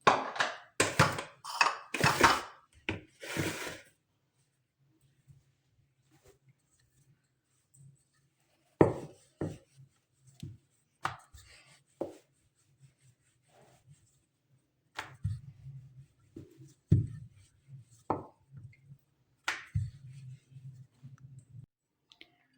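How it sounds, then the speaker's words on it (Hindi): Paratha dough for chicken cheese paratha is rolled out, heard as scattered soft knocks and taps of a rolling pin with long quiet gaps, after a quick burst of sharper clicks at the start. "रोटी को हमने अच्छे से बेल ली"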